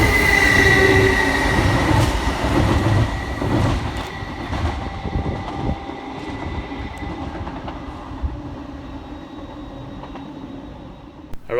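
A pair of Class 325 mail trains rolls through Crewe station at speed, wheels clattering and squealing loudly before the rumble fades as they pass.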